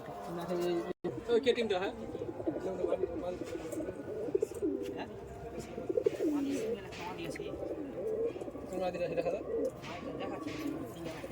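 High flying teddy pigeons coo in a steady, low murmuring chorus close by, continuous throughout, while a person talks over the birds.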